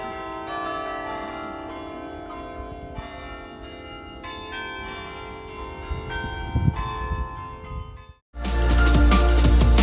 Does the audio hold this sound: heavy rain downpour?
no